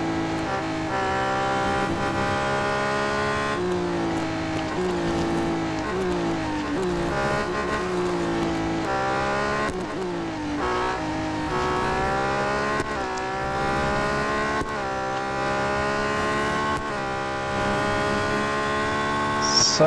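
Race car engine in the Real Racing 3 video game, a loud sustained whine that climbs and drops repeatedly through gear changes over the whole stretch.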